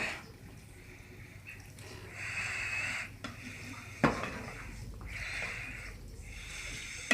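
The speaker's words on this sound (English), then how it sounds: "Now you take and stir this up into it." A spoon stirs paprika and salt into beef gravy, making soft scraping swishes around the pot with a couple of sharp metallic clinks against the side, close and fairly quiet.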